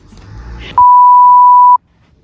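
A phone gives one loud, pure electronic beep that holds steady for about a second and then cuts off abruptly, following some faint background noise and leaving near silence afterward.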